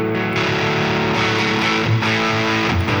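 An electric guitar plays through the tube screamer overdrive on a Line 6 Pod Express, giving a gritty, sustained distorted tone as several notes and chords ring out in turn.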